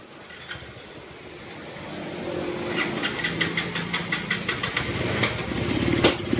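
Kubota R180 diesel engine running rough, chugging with an uneven, lumpy beat that grows steadily louder and harsher up close.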